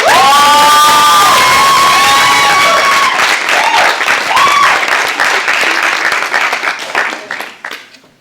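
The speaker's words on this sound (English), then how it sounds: "So if we could give her a round of applause." A conference panel audience breaks into loud, sustained applause with some cheering. The clapping stays full for several seconds, then fades out toward the end.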